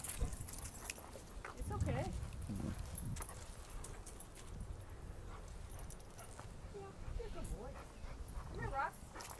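Dogs yip, bark and whimper in excited bursts as they play, with people talking in the background throughout.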